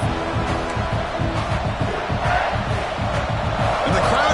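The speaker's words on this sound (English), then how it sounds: "the crowd coming to life here, trying to help this defense down in the red zone" A stadium crowd roars and cheers continuously at a college football video game, a dense, steady wall of noise as the defense holds in the red zone, loud and unbroken throughout.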